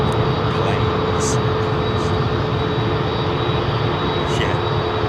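A close-up airliner takes off at London Heathrow Airport with a loud, steady, broadband roar that holds unbroken for the full five seconds and carries a faint whining tone on top.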